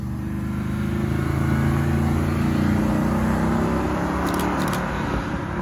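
A Mercedes SLS Black Series arriving at a car meet, its engine a deep, loud, steady rumble with layered harmonic drone, close by and uninterrupted.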